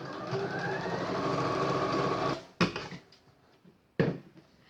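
A sewing machine stitches the side seams of a fabric phone case, a steady close whir running for about two seconds, then stopping, followed by a couple of sharp handling clicks.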